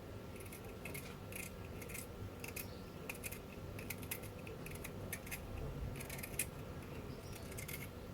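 Bitter melon is sliced by hand without a cutting board, giving faint, crisp snipping clicks in irregular clusters over a low background hiss.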